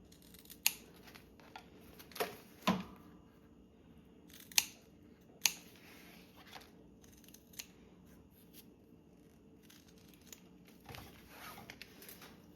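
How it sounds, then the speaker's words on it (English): Scissors snip off the seam allowance corners of sewn fabric. The cuts come as several quiet, crisp clicks, spaced irregularly over soft handling and rustling sounds. "You can snip off your seam allowance corners."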